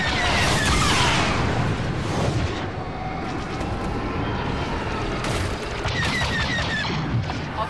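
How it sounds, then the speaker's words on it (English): A shield generator explodes in the Star Wars Battlefront 2 starfighter assault over Fondor, a loud rumbling boom that opens the clip and rolls into continuous battle noise with further blasts and laser-like bursts. "The rebels have destroyed a shield generator."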